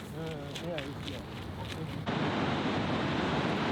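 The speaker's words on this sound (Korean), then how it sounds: "파도들이 쉼없이 폭포를 감싸고 돈다." Steady rush of surf and crashing water, loud and continuous, with an earlier stretch of a busier mix before the roar takes over; ocean waves swirling around a waterfall in the Faroe Islands.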